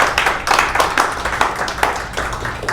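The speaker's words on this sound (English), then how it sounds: "Big round of applause." Audience applause at a tech demo night in Las Vegas, a close, lively patter of many hands clapping, steady and fairly loud throughout.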